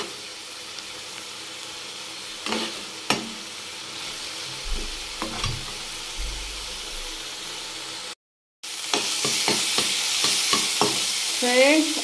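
Tomato and spice masala cooks in a pan with a steady low sizzle, punctuated by scraping stirs and clinks of the utensil, which grow louder and busier near the end.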